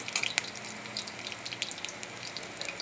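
Green chillies and mustard seeds frying in oil in a wok, giving a dense continuous hiss dotted with quick crackling pops, close and fairly faint, no voices.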